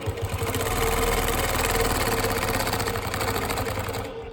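A longarm quilting machine stitches along a ruler doing continuous diagonal crosshatching, a loud, continuous rapid mechanical chatter with a motor drone that runs without pause.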